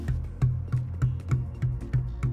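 A DW maple drum with a VLX shell, struck in a steady series of about eight low, resonant hits roughly a third of a second apart, each with a sharp attack and booming sustain, heard close and alone.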